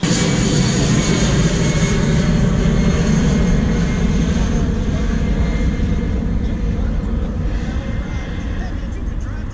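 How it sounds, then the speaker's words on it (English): A jet aircraft roars overhead above a lake during bass fishing. The loud, broad rumble dominates at first, then slowly fades as it passes. "there was a jet going over and I heard it go by my ear"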